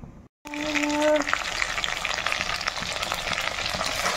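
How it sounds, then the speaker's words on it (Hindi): Fish sizzling as it half-fries in hot oil, a loud, steady crackle that bursts in right after a brief silence and continues close up without pause. "ये हो गया तेल गरम अभी मैं मछली को हाफ फ्राई करूंगी"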